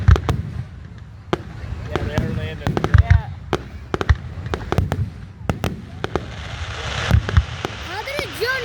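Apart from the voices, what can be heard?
fireworks exploding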